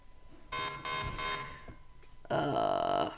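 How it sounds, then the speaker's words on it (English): Severe thunderstorm warning alert tones on a live weather stream covering the forming Tropical Storm Debby, sounding as a few loud electronic beeps in short bursts, with gaps between them and a longer sustained tone near the end. "those are just more severe thunderstorm warnings being issued on the East Coast here"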